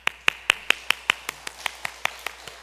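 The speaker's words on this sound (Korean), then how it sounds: "우리 박수 한번 칩시다" A single pair of hands claps about a dozen times in a quick, even rhythm at a church prayer service, sharp close claps that soften slightly toward the end, with no voices over them.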